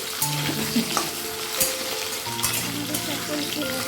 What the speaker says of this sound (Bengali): তার আলুটা আমি একটু ফ্রাই করে নিচ্ছি